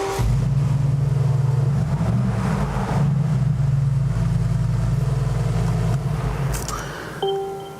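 A Mercedes G63 AMG on frozen Lake Baikal runs with a loud, steady low engine and exhaust drone that shifts pitch a few times, then eases off near the end as a clatter sounds close by.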